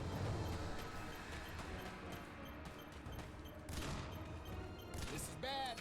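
Rapid gunfire erupts against swarming monsters in Earth Defense Force 6, quiet, sustained bursts of shots mixed with booms and thuds in a busy battle.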